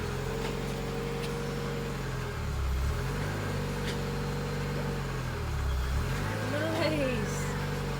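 A car's engine runs after starting, with a steady low idle hum whose pitch dips and swells twice as it is revved, heard up close.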